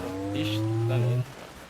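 Car engine in the Halo Master Chief Collection video game, a steady tonal motor hum with a rising whine lasting about a second before cutting off, heard during a competitive match.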